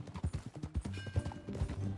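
Rhythmic clip-clop of horse hooves on ground in the Red Dead Redemption II game, steady trotting beat close by with low thuds, no talking.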